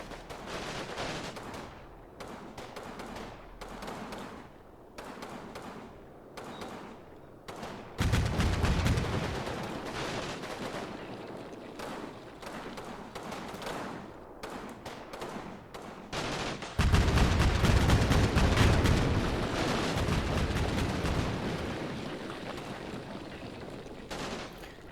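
Cannon and small-arms fire in the war strategy game Combat Mission sound as a long battle rumble of scattered shots and bursts, swelling into two heavy sustained barrages midway and later.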